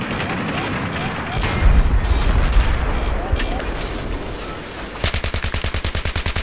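Explosions and cannon fire boom through a tank battle in the video game Battlefield 3, with heavy rumbling blasts early on, then a rapid, evenly spaced volley of shots at the end.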